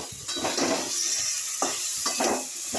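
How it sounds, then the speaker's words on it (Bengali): Potato pieces sauté in a pan for a papaya kofta curry, a steady oily sizzle broken by repeated scraping stirs of a spatula against the pan, close and fairly loud. "আলুটা একটু কষিয়ে নিয়ে"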